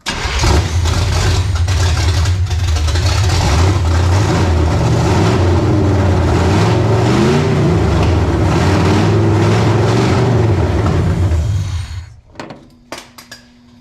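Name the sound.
1972 Chevy Nova engine with open long tube headers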